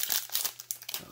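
A Pokémon Sun and Moon trading card pack wrapper being torn open, a burst of close crinkling and tearing foil that continues in rapid irregular rustles, loud and near with no talking.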